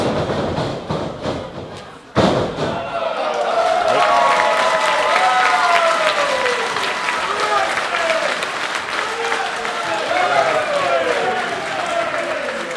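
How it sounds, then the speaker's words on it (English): Wrestling fans at a 2CW independent show break into loud, sustained applause after a sharp thud, their clapping mixed with crowd noise and whistles while a commentator talks over it. "Nice show of applause from the 2CW fans"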